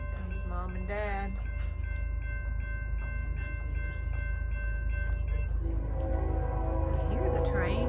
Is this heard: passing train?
yes